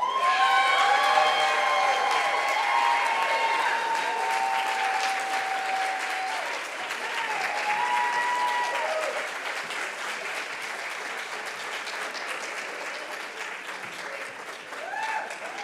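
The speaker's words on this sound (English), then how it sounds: "I love the standing ovation here." A large audience at a business plan competition finals in Fort Worth gives sustained applause and cheering in a standing ovation after a grand prize announcement, steady and dense throughout, with scattered shouts and a slight fade toward the end.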